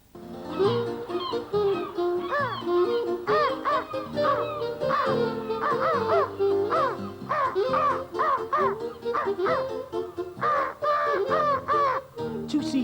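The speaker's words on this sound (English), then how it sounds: "Two seagulls squabbling over a piece of fish." Two seagulls squabbling over a piece of fish, loud harsh overlapping squawks and cries repeating almost continuously, close and shrill, with no voices over them.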